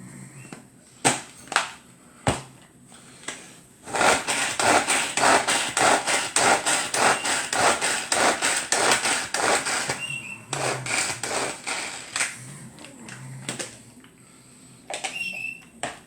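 A knife chops beetroot on a cutting board in a fast run of sharp, close knocks, with a few isolated taps before and after the main burst.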